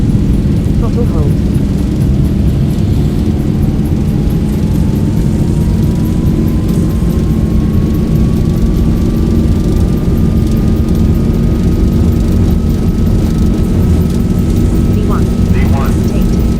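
Boeing 737-800 jet engines spool up to takeoff thrust in a flight simulator, a steady loud broadband roar with a slowly rising whine that climbs and then holds for the whole stretch.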